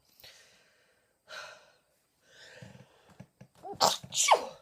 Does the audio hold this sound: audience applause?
no